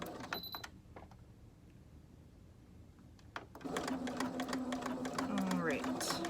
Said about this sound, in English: I'm going to start and back up a bit.